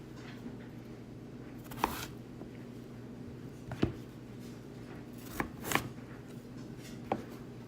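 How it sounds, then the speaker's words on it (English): Knife slicing peeled potatoes into bite-sized pieces on a cutting board, a handful of crisp separate chops spaced a second or two apart, close and quiet, over faint room hum. "I'm gonna cut them in half again, just so I can get really nice bite-sized pieces that'll cook pretty quickly and evenly"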